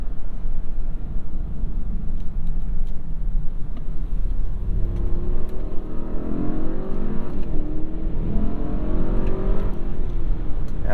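A 2021 Mercedes-Maybach GLS 600's engine revving in sport manual mode, heard from inside the cabin: a low steady rumble that climbs in a rising rev sweep, then falls back, with no speech.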